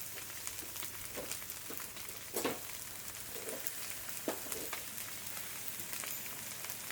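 Rice with egg is stir-fried in a pan the old-fashioned way, giving a steady soft sizzle with occasional scraping stirs and small pops, fairly quiet and close.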